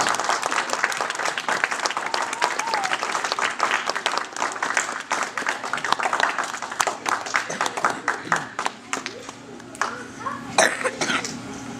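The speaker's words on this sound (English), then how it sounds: "Let's give these scouts a great big round of applause." A crowd at a Cub Scout pack Blue and Gold event applauds the scouts with loud, sustained clapping. Coughs, throat clearing and children's voices mix in as the clapping thins toward the end.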